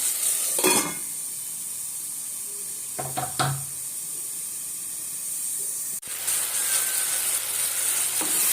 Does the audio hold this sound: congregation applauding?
no